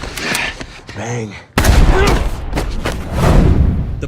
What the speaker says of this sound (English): She starts her car and tries to escape amid heavy gunfire.